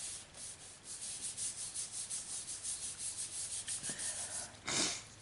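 Paper glued onto a layered card is rubbed down by hand, producing a soft, rhythmic scratchy swishing of repeated close strokes, with a sharper brush near the end.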